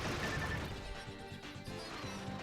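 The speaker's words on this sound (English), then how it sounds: "Kirby makes some interesting noises when he gets vaporized." Kirby getting vaporized in Kirby Triple Deluxe, a loud, dense crashing blast with layered electronic effects and bright tonal sound effects over steady game music, with no talk over it.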